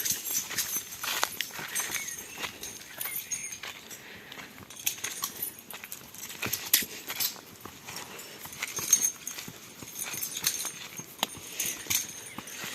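Horse hooves clop on the ground alongside faint jangling and rustling, steady irregular steps as a young herd of horses moves out to pasture outdoors.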